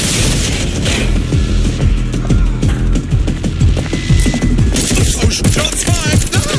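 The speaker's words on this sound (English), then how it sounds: "Shots fired!" Gunfire in the video game Watch Dogs: Legion comes as a loud, dense barrage of rapid shots mixed with heavy booms, continuous and close throughout.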